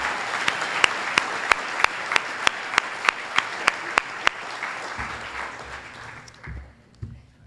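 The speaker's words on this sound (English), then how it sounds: "How about a round of applause?" Crowd applause at a business community forum with a chamber of commerce guest, one close set of sharp, evenly spaced claps standing out over the general clapping before it all fades and a few low thumps follow.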